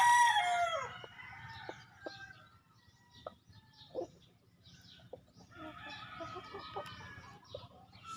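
A backyard gamefowl stag crows once loudly at the start, followed by softer clucks and scattered bird calls from the flock nearby.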